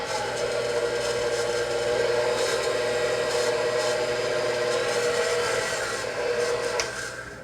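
An electric mixer beats three eggs in a large bowl for zucchini bread batter, giving a steady, continuous whirring hum close by with no talking.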